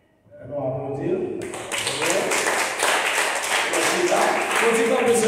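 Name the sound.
audience clapping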